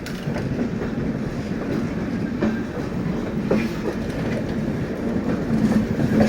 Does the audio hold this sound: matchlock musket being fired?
no